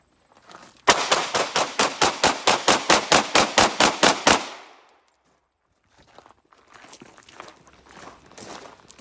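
A Sig Sauer P320 9mm pistol fires a fast string of about fifteen quick-draw shots at an outdoor range, loud sharp cracks in an even rapid rhythm, followed by a pause and then quieter rustling and movement.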